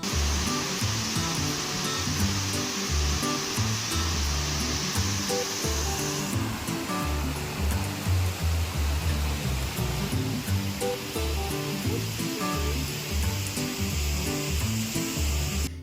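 Heavy monsoon water rushes steadily in Telangana, a loud continuous roar that holds without a break the whole time, with a broadband hiss like a torrent or spillway.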